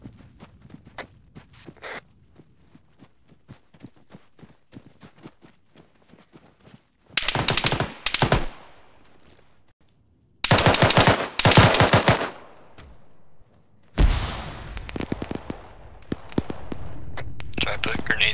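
Video game machine gun fire comes in several loud, rapid bursts during a multiplayer match event, with quiet footsteps and whispered team chatter between the volleys.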